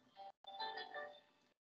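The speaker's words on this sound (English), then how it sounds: "sorry, work phone." A work phone rings faintly, giving a short electronic tone, a brief gap, then a longer melodic warbling ring that stops abruptly.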